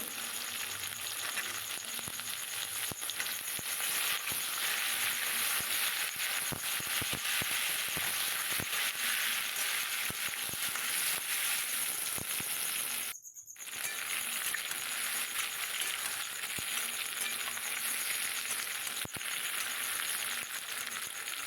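Eggplant and pointed gourd frying together in an oiled pan, continuous close sizzle and crackle with occasional stirring taps and a brief dip in sound midway, no talking.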